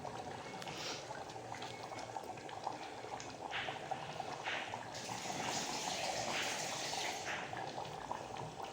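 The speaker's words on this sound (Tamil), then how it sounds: "நல்லா கொதித்ததும் நல்லா கொதிக்கட்டும்." A bitter gourd, egg and tamarind curry bubbles in a pot, with a soft, continuous simmering hiss and scattered pops that grow slightly busier toward the end, heard close with no talking.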